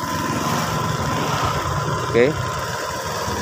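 Honda Vario 125 FI scooter engine idling steadily near rice fields, a constant low putter with a person speaking briefly over it.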